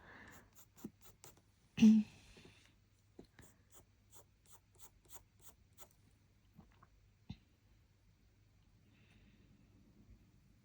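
Coloured pencil strokes draw black and white Dalmatian fur on paper as faint, close, quick scratches, scattered and irregular, with a louder rub near the start and quiet gaps between them.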